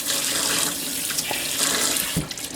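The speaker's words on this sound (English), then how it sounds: "I'm going to rinse this so I can give you a better look." Running tap water pours steadily over a turkey gizzard being rinsed under the faucet, a close, continuous rush of water with a brief splash near the end.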